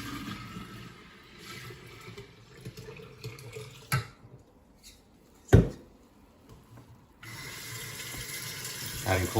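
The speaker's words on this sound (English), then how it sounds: "I'm just adding in cold water and making sure it's cold into the tea." Cold water trickles and splashes as it is poured into tea for kombucha, with a couple of sharp clinks, then a steadier stream near the end.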